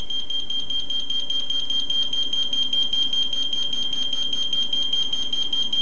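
The base unit siren of a MasterKIT MT9000 apartment SMS alarm sounds after a door is opened, a loud, piercing electronic tone pulsing in fast, steady repetition throughout, with no talk.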